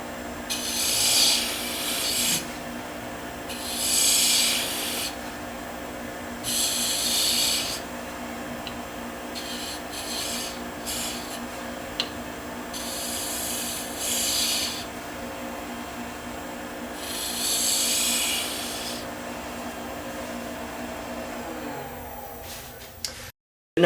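A cast finial is faced and tapered on a lathe, with the motor humming steadily under several bursts of cutting and rubbing, each lasting a second or two and separated by quieter running.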